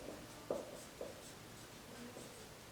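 Pen scratching on paper as chemistry notes are written out by hand, soft close strokes with a few sharper taps, continuous and faint over a low steady background.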